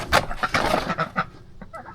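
Ducks at a farm pond calling in a run of loud, close quacks and honks spread across the moment, with no talk over them.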